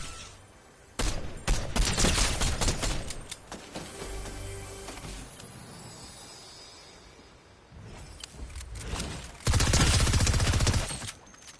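Rapid bursts of gunfire in the video game Fortnite, loud and close, with rattling automatic volleys that come and go, heavier bursts at the start and end and quieter game sounds between them.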